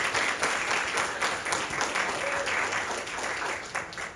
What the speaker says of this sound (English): give a big round of applause to some of our teachers that we have here